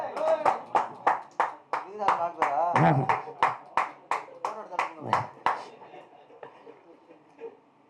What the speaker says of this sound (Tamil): தட்டுங்கடா டேய்.